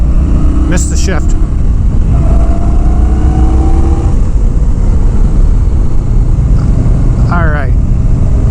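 A 2019 Indian Scout Bobber cruiser motorcycle on the move, its engine droning steadily with a couple of rising revs and a quick throttle sweep near the end, mixed with constant wind rush.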